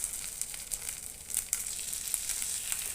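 Egg batter sizzles in a paniyaram pan after the pieces are flipped: a continuous close frying hiss dotted with small crackles and pops, with no talking.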